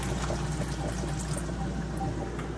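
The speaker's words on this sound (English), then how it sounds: "I am now adding about half a cup of beef broth." Beef broth poured into a pan of sauteed beef and vegetables, a steady continuous liquid pour heard close up and alone, with no talking.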